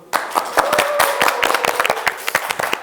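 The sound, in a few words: audience applause for guests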